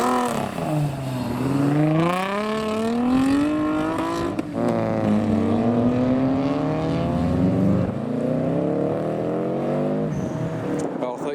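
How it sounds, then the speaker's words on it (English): A supercharged Nissan 350Z pulls away from a car show, its engine climbing through rising rev sweeps with gear changes, loud and close at first, then steadying as it drives off, with people talking nearby. "And a supercharged 350Z next up"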